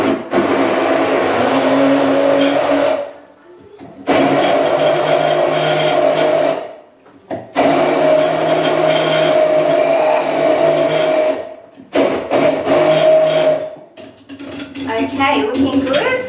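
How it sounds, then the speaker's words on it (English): A blender blending a smoothie whirs loudly in several bursts with brief pauses between them, its motor drone steady and close. "Got my blender ready to go here."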